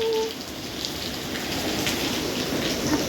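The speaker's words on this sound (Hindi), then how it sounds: "यहाँ बारिश हो रही है" Steady rain falling outdoors, an even close hiss of drops spattering on surfaces that carries on without pause, with no voices.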